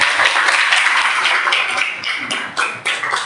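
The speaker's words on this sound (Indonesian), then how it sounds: "Tepuk tangan untuk Wildan semuanya." Classroom of students applauding a classmate, a burst of many hands clapping close together that fades into scattered, uneven claps, with no talking.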